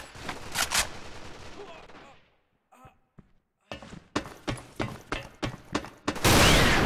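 Gunfire in a tactical first-person shooter video game, with a bomb-planting round: a burst of shots, a near-silent pause with a few faint clicks, then a rapid string of loud, sharp reports ending in a dense blast of noise.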